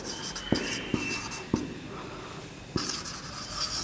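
A pen writes a trigonometry definition by hand on paper in a quiet room, producing soft scratchy strokes broken by several sharp taps as the pen lifts and lands, close and fairly faint.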